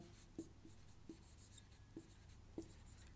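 A pen writes examples by hand on a surface, giving faint, close scratching strokes broken by a few soft taps as words begin, in a quiet room.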